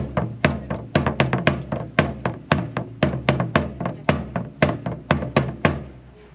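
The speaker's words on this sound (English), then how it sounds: "So the reform beat sounds like this." A military side drum plays the reform beat, a crisp close pattern of sharp strikes grouped in quick repeated figures with short rolls, loud and alone, without any voices.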